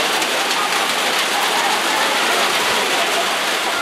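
Steady heavy rain from a sudden evening downpour at a summer camp, an even dense hiss of drops on surfaces that holds at constant loudness throughout with no voices.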